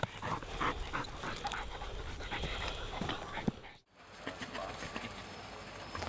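A mine detection dog during explosive-search training pants and moves close by, with rapid breathing and scuffling footfalls throughout, soft and steady, with a brief pause near the middle.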